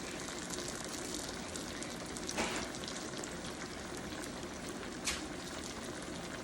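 Eggplant slices fry in a pan for an eggplant parmesan lasagna, giving a steady, dense sizzle with a couple of faint pops, continuous and close throughout.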